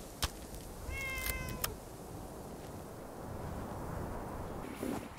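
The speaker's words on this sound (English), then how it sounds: "found between Welch Station and Mount Blair train yard, there's a live cat named Murgle." A cat in the video game Fallout 76 lets out one short, rising meow early on, fairly clear over a soft ambient wash, followed by quiet background noise.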